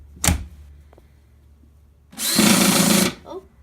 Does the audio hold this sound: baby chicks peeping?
no